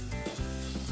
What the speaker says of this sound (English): Stir everything nicely.